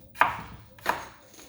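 A knife dices garlic on a cutting board, giving two crisp, close chops about two-thirds of a second apart, with no talk.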